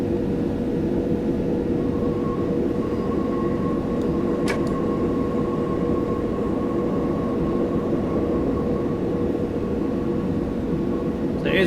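A train running toward Euston Junction in Train Simulator 2020, a constant loud rumble of motor and wheels on track with a steady hum, one brief click partway through.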